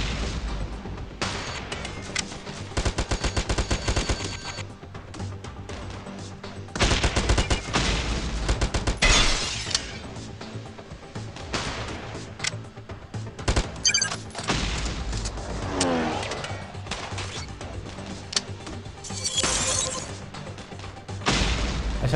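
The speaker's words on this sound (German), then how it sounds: "Eine Artillerie." Artillery and gunfire in the mobile war game WarFriends, with repeated sharp blasts, bursts of rapid shots and heavy impacts in irregular clusters over a busy battle background.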